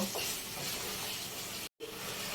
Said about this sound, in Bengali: এখন আমি ডিম সমেত মশলাটা আর একটু কষে নেব